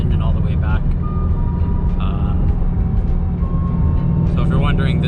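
Subaru BRZ/FRS/86 sports car with catless Gruppe-S unequal length headers, Gruppe-S overpipe and HKS dual resonated exhaust, droning steadily and loudly at cruise on a backroad with a constant low rumble and no pauses.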